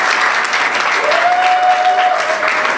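Loud, sustained applause fills a gala dinner hall for a charitable foundation, dense clapping from many hands, with a single high whistle cutting through the middle of it.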